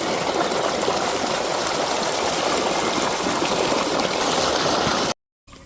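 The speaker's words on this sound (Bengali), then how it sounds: "দেখতে পাচ্ছ কত স্পিডে জল বের হচ্ছে এই মেশিন থেকে" Water gushes steadily and loudly from a shallow irrigation pump machine watering a rice field, a dense continuous rush that cuts off abruptly just before the end.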